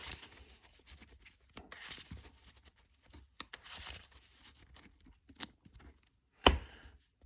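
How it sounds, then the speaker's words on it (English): Soft papery riffling and scraping of a deck of trading cards being shuffled, in short bursts with a sharper snap near the end, close and quiet. "We'll give it a good shuffle again."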